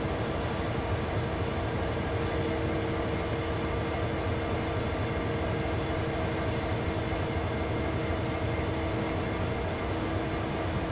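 A train in the simulator game Train Sim World 3 rumbles along steadily, a continuous loud drone of wheels on track with a low engine hum and no voices.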